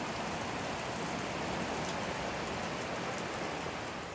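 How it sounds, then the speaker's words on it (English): Steady, moderate rain falls continuously outside a small two-car garage in Southern California, a dense even patter with no voices. "We rarely get rain in Southern California, but this time my car day was rained out."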